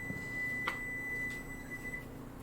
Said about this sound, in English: there's our 1 minute timer